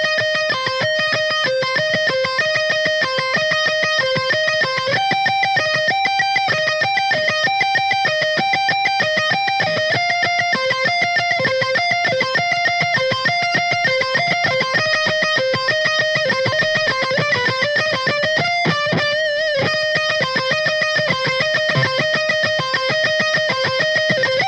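Electric guitar plays the intro lead of a song at a semi-slow tempo, a steady stream of bright, sustained distorted notes with fast melodic runs, loud and continuous with no talk.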